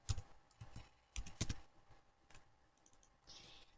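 Computer keyboard typing while entering a formula in Excel: a few short bursts of soft, close key clicks with gaps between them, quiet and without talk.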